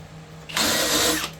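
A Flex 24V cordless drill spins a 2 9/16 inch self-feed bit into wood, one loud, high-pitched whirring burst of about three-quarters of a second that rises suddenly and cuts off, with no talking.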